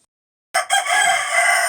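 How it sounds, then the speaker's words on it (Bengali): A rooster crows once, close and loud, a full cock-a-doodle-doo starting abruptly after a short silence and holding steadily to the end, with no talk over it. "এই দেখুন আমাদের মুরগি আর ওটা হচ্ছে বুড়ো ডাকলে সারা দেয়"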